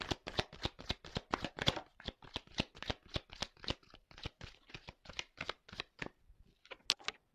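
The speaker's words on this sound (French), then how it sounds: "Bon, attendez, je prends les cartes." Tarot cards being shuffled by hand: a steady run of quick, crisp riffling bursts, close and fairly quiet, with no voices.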